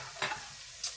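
Crushed garlic cloves hit a hot pan with ginger for a butter chicken dish, giving two short bursts of sizzle and stirring, close and fairly loud over a steady background hiss.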